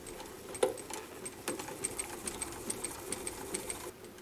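An industrial walking foot sewing machine, a Pfaff 145 or Juki 563, stitches through four layers of material, its steady rapid mechanical clatter running throughout with a sharper knock near the start.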